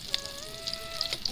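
Sliced pointed gourd (potol) fries in oil in a village kitchen, with a soft, steady sizzle and a few brief crackles, heard alone and fairly quiet.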